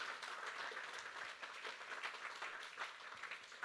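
Audience applause at a community care organisation's annual report night, steady clapping from a modest indoor crowd, fairly even throughout with no talk over it.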